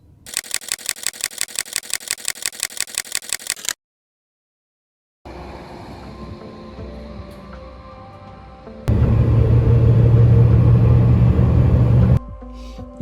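A car's engine rumbles and swells loudly for a few seconds, preceded by a rapid burst of camera shutter clicks and a short silence, with no talking.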